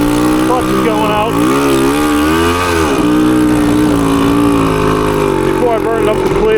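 A 1980 Suzuki TS185 motorcycle engine runs loud and close with a failing clutch, its tone rising and falling through revs, with no one talking over it.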